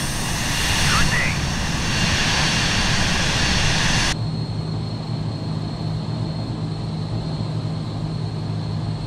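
Jet airliner engines spool up loudly for takeoff from runway 35 at Minneapolis in Microsoft Flight Simulator, a steady broad roar that drops to a lower sustained hum with a constant tonal whine after about four seconds.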